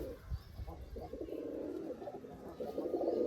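Racer pigeons coo on a Rajshahi farm, soft repeated low burbling calls from several birds close by, building into a denser murmur toward the end.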